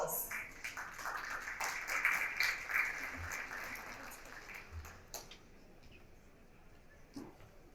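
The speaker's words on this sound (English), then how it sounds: "Let's give them all a round of applause" A conference audience in Dubai applauds a panel of speakers, a scattered crowd clapping that swells early and then thins out over several seconds, with a few muffled thumps and handling noises near the end.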